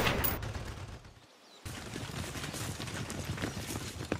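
Gunfire effects in a toy army men stop-motion battle form dense, rapid crackling bursts of shots. A brief near-silent gap is followed by sustained rattling fire at moderate volume, with no speech.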